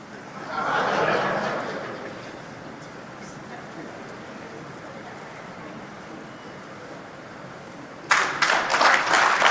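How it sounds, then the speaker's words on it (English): Applause breaks out at a ceremony as His Excellency formally launches the APRM process and report. It swells briefly near the start and fades to low room noise, then loud clapping returns sharply toward the end. "Let's give His Excellency a big round of applause as he's formally launching the APRM process and the APRM report"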